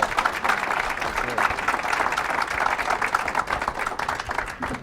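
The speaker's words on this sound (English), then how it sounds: "a round of applause for everybody" A town-meeting audience claps steadily and densely for about five seconds, a close, sustained round of applause with no break in the sound.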